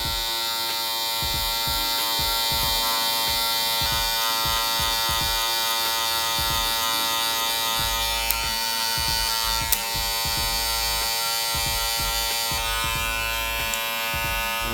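Electric hair clippers fitted with a 1.5 guard buzz steadily and close up while blending a low taper haircut, the hum fluttering with the strokes and never stopping, with no talking.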